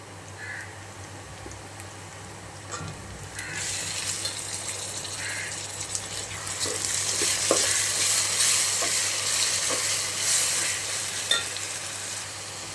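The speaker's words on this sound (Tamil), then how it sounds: "அரைச்சி வச்சுருக்க இஞ்சி பூண்டு பேஸ்ட் ஆட் பண்ணுறோம்." Ginger garlic paste frying with browned onions in hot oil for chicken biryani, a steady sizzle under scraping stir strokes that grows louder partway through, close and continuous with no talk.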